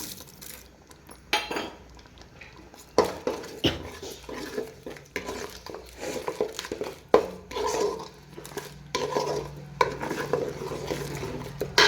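A spoon scrapes and clanks against a pan while fish curry masala with tomatoes is sautéed and stirred, in irregular bursts of metallic scraping over a faint background sizzle, close by.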